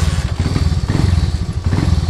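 A motorcycle engine chugs close by with a loud, low pulsing rumble and a few clattery knocks, steady throughout and with no talking.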